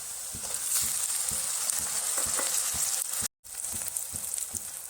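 Sliced onion and tomato fry in a pan for a dried ribbon fish curry, giving a constant close sizzle with rhythmic stirring taps and a brief silent gap partway through.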